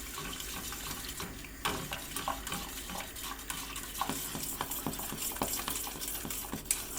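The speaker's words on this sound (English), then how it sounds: "I'm going to keep on whisking until it becomes thick and creamy" A whisk works semolina pudding in a pan, giving quiet, irregular scraping and stirring strokes against the metal that continue throughout, with a faint kitchen hum underneath.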